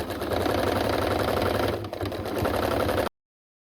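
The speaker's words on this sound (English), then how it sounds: "let's go ahead and sew 1 inch seam all the way around." Sewing machine running steadily while stitching a 1 inch seam around a rag quilt, a continuous close mechanical whir with a brief dip partway through before it stops.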